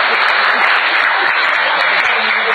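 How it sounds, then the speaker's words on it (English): Applause from an audience at a Visalus Sciences introduction meeting in Jamaica, a steady dense wash of clapping that stays loud and even throughout, with faint voices beneath. "The people who clap for anything,"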